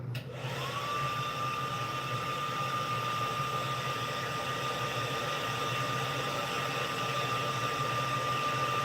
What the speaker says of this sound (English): I have a hairdryer today.